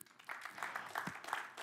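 Scattered audience applause at a French-speaking business presentation, a brief patter of clapping from a modest crowd, fairly quiet.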